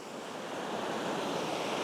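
Ocean waves and swell breaking steadily at the shore as the tide comes in fast, a continuous broadband wash with some wind noise on the microphone, close and fairly loud throughout.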